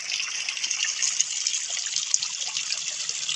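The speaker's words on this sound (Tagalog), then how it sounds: "Ito na ang load ng bukal na nagsusupply papunta doon sa fish pond." Spring water flows out to supply a fish pond, making a steady, bright trickling and splashing that continues throughout with small spatters, no voices.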